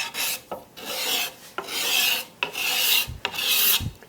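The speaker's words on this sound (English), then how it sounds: "Getting nice peels with the scraper." A hand scraper pulls peels off a wooden furniture surface in repeated rasping strokes, close and loud, each long scrape separated by a short pause.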